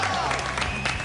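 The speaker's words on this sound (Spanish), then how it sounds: "Le damos un aplauso para recibirla." A studio audience gives a brief burst of applause to welcome a child psychologist guest, the clapping steady and fairly close with a voice speaking over it.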